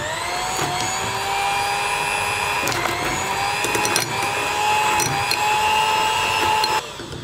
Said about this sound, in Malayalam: ഈ ബട്ടറിലേക്ക് ഞാൻ ആദ്യം നമ്മുടെ മാറ്റി വച്ചിരിക്കുന്ന മുട്ടയുടെ മഞ്ഞ ഇതൊന്ന് ചേർത്ത് സ്ലോ സ്പീഡിലാണ് മിക്സ് ചെയ്യുന്നത്.